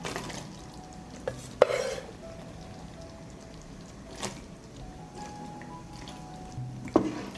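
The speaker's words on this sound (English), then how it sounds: "I will stir and simmer for another 3 minutes" Pasta being stirred through a creamy hard-cheese sauce in a pan, a soft wet squishing with a few scraping clicks, fairly quiet and close with no one speaking.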